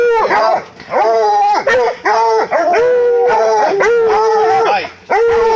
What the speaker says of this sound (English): He's barking at dogs.